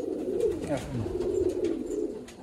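Pigeons of a Symbol breed line coo steadily in a loft, a close, continuous chorus of low rolling coos with overlapping calls throughout.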